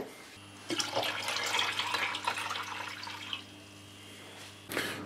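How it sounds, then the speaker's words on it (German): About a liter of water runs into a cooking pot for boiling bagels, a steady close rushing stream lasting around four seconds that starts abruptly, then cuts off, followed by a brief splash. "Einfach Wasser in den Topf geben, einen guten Liter, ein bisschen Zucker zu und erhitzen."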